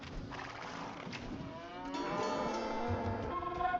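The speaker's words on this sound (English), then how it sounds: "A couple of cows. That's cool." Cows in the Age of Empires II video game moo in a low, drawn-out call that swells in the second half, heard alone and fairly faint.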